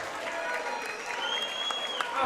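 A boxing event crowd applauds both fighters after five rounds, steady clapping throughout at a moderate distance, with a thin whistle-like tone gliding over the top.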